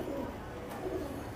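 A small-winged female pigeon at a Delhi-Haryana pigeon club gives a brief, soft low coo over a background of outdoor noise.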